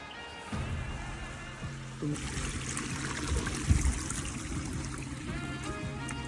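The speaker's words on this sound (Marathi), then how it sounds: "इथून हे सगळं पाणी खाली स्लोपनी वाहून चाललंय" Water gushes steadily from a leaking drinking-water pipeline at night on the Baner-Pashan Link Road in Pune and runs down a sloping road: a continuous, moderately loud rushing flow.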